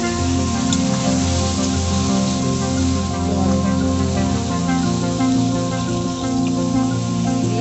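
Pre-fried potatoes hit hot oil with chili powder and turmeric for aloo dum, producing a loud, continuous, close sizzle with a rain-like hiss that holds steady throughout.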